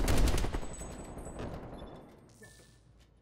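An RPD light machine gun fires a rapid burst in Call of Duty Black Ops Cold War, loud staccato shots up front that decay into echoing tails and fade to quiet.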